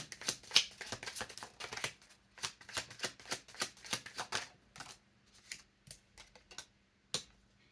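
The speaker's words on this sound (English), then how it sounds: "I'm gonna pull a few more cards and then we'll see." Tarot cards being shuffled and pulled make a run of quick, crisp paper flicks and riffles, dense at first and then settling into sparser, separate snaps, heard up close with no talking.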